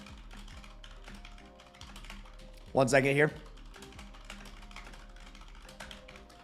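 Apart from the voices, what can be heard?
typing on a keyboard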